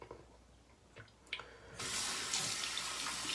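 Water from a tap runs onto a puck of shaving soap, starting after a few quiet clicks and then a steady close splashing rush that fills the rest of the moment.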